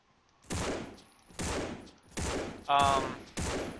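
Five single gunshots from a firearm in the zombie shooter game No More Room in Hell ring out, evenly spaced about a second apart, each a loud sharp crack with a short decaying tail.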